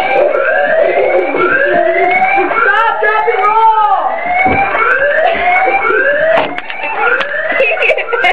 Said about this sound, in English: I'm going to prank her with a fake fire alarm.